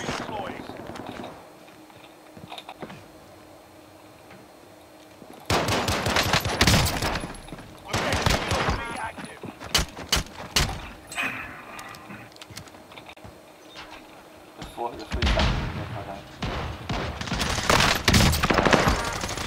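Bursts of video game gunfire from a team shooter match, rapid cracking volleys that come in clusters and then fall quiet, with a player talking between and over the shots.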